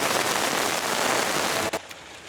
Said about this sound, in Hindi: 2 घंटे की बारिश ने लाहौर को पानी पानी कर दिया